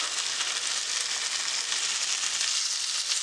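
Kupa fish frying in a pan for a fish fry, giving a steady, bright sizzle that holds at even loudness from start to finish with no talking.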